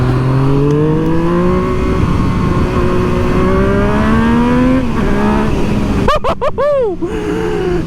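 A motorcycle accelerates hard, its engine note climbing steadily and loudly, then a few quick blips of revving near the end over a continuous road rumble.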